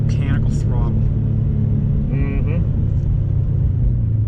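A turbocharged JDM Subaru WRX with a mechanical throttle drives on a wet road, its engine a steady low rumble heard from inside the car under ongoing talk.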